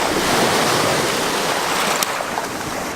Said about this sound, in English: Excuse the waves if they're a bit loud